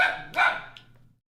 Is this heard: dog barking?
yes